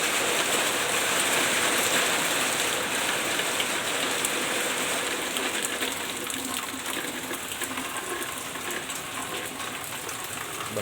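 Heavy November rain pours down in a dense, steady hiss, with closer drips and splashes on hard surfaces that fade slightly toward the end.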